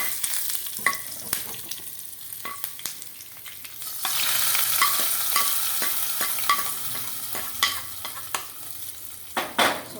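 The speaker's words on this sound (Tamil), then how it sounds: "அது நல்லா வெடித்த உடனே கருவேப்பிலை சேர்த்துடலாம் நல்லா பொறிஞ்சிருச்சு" Mustard seeds and urad dal crackle in hot oil, joined by curry leaves, for a chayote kootu: a dense close sizzle with sharp pops and spatters, swelling louder midway, with no voices.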